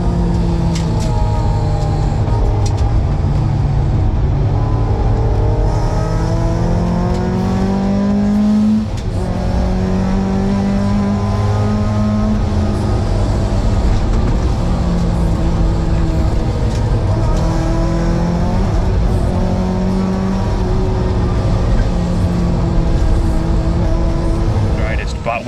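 A Toyota AE86 rally car with a damaged engine drives on a rally stage, the motor loud and close in-cabin, revving up through repeated rising gear pulls with drops between shifts, while people talk over it.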